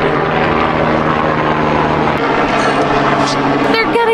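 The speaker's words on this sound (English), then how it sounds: "Helicopter coming over." A loud helicopter drones with a continuous rotor roar close by, and a few brief higher sounds cut in near the end.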